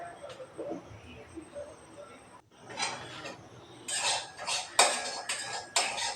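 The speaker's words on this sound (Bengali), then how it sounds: "খুন্তির সাহায্যে সুজিটাকে ভালো করে নাড়ব।" Metal spatula stirring semolina in a pan, producing scattered scrapes and light clinks that grow denser and louder toward the end, with soft background noise in between.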